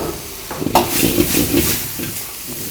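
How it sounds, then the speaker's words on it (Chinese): Green peppers stir-fry over high heat in a hot wok for green-pepper shredded beef, giving a continuous loud sizzle and hiss broken by the soft scrape and toss of stirring. "这个辣椒下锅开大火，翻炒几下"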